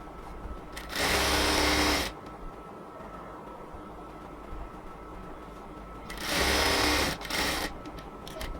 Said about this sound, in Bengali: আমরা প্রথমে স্লিভসের মুখে যে বর্ডারটা আছে সেই বর্ডারটাকে আগে সেলাই করে নেব